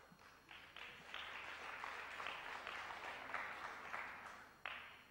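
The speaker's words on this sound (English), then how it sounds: "Crowd appreciating how difficult it's going to be for Davis to get anywhere from this position" Crowd applause at a professional pool match, the 2002 World event with Steve Davis and Efren Reyes, steady clapping from many spectators lasting several seconds at moderate distance, with faint murmuring under it.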